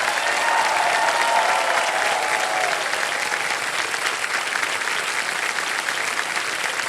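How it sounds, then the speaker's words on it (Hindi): Steady, dense clapping from a studio audience on a television quiz show, continuous and evenly loud throughout with no talking over it. "ताली बजती रहे क्योंकि अब चेक आने वाला है इनके नाम।"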